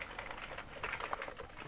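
Fingers type on a retro Commodore Amiga computer keyboard, giving quiet, soft rapid clicks in an uneven rhythm. The sound is faint and close, with no talking.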